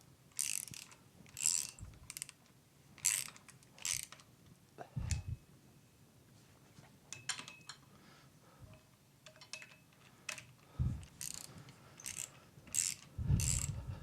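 A ratchet tightens bolts on the final drive of a David Brown DB990 tractor, with bursts of rapid clicking strokes repeating at a steady rhythm, close by, interspersed with occasional knocks and pauses.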